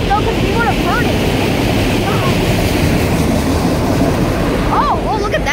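A long CSX autorack freight train rumbles past loudly and continuously, with steady rolling clatter on the tracks and a few squealing metallic wheel screeches, close by.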